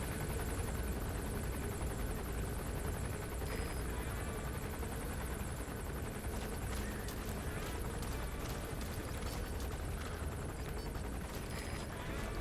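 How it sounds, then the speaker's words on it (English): A helicopter in the video game Metal Gear Solid V: The Phantom Pain drones steadily with a dense rotor rumble, a constant, fairly faint wash of engine noise throughout. "This heli needs to fuck off."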